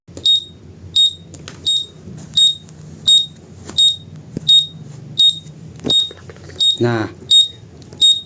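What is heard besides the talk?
rain sensor buzzer alarm sounding when wet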